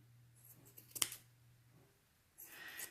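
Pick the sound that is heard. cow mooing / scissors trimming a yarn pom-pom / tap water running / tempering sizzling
scissors trimming a yarn pom-pom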